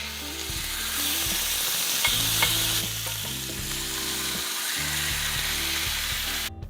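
Turkey thigh sizzling skin side down in hot olive oil, a steady close frying hiss with occasional utensil scrapes and clinks throughout, no voices.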